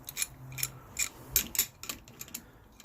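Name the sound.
wrench loosening a bolt on a Suzuki GSXR600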